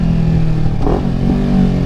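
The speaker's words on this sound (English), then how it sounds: "to blip the throttle appropriately, an appropriate amount" A manual car's engine revs briefly in a throttle blip during a downshift. The steady engine drone swells into one short rise in the middle, then settles back to idle, with no voices.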